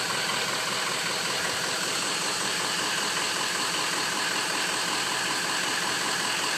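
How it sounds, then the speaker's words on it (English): Truck engine started cold and left idling, with oil at 95 degrees: a steady, even rumble running throughout, close and moderately loud, no voices. "We're going to get ready to fire it up and check the power balance."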